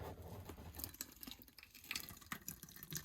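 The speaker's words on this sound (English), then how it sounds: "it's starting to drip out of there" Differential fluid from a 4WD pickup truck drips and patters into a pan, with small irregular splashes and a faint background hum, no voices.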